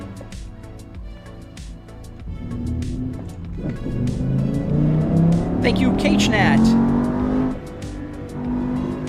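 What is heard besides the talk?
BMW M5 E60 V10 car engine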